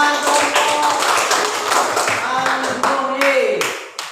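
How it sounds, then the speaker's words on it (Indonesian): Classroom applause for a student group: a lively burst of many hands clapping up close, with some voices mixed in, tapering off and ending abruptly near the close. "Nah, ya, tepuk tangan kelompok"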